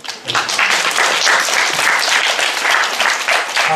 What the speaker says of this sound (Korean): 우리 한번 큰 박수 한번.